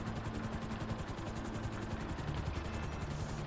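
A helicopter's rotor beats as a steady, rapid thumping over a continuous engine roar. The sound is loud and unbroken throughout, with no voices.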